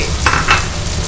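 Petai beans tossed into a hot wok with sambal and stirred, giving a steady sizzle with two quick scraping stirs of a utensil against the pan, close and fairly loud.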